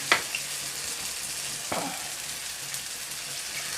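Potato dhokli fry in a pan, one side browning, with a steady hissing sizzle and a couple of soft knocks from stirring or turning. Nobody speaks.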